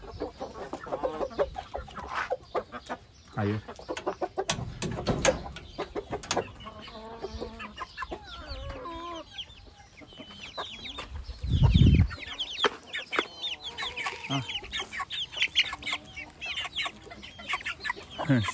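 Chickens and chicks clucking and squawking in a busy, overlapping chorus during a midday feeding, close by, with scattered pecking clatter, a brief rustle, and a person speaking once amid the birds.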